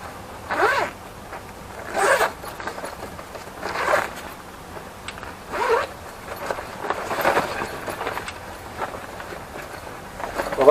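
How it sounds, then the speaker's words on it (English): A two-way zip on a bag for an Outbacker stove is pulled open in repeated short rasping strokes, each about two seconds apart, close and moderately loud. "The zip looks quite sturdy actually"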